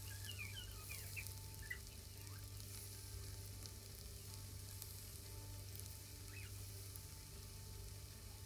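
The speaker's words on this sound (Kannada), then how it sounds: "ಈ ಥರ ನಾವು ಎಣ್ಣೆಗೆ ಬಿಡ್ತಾ ಬರಬೇಕು" Potato pieces fry in hot oil for chilli potato, giving a steady, quiet sizzle throughout with faint crackles and pops and no talking.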